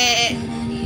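A voice imitates a goat's bleat with one short, nasal, wavering "meh" call, close and fairly loud, in a casual indoor family setting.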